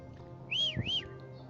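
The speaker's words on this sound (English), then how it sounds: "Somebody whistled." A single two-note whistle, a rising-and-falling sweep repeated twice, faint and somewhat distant over a quiet background hum.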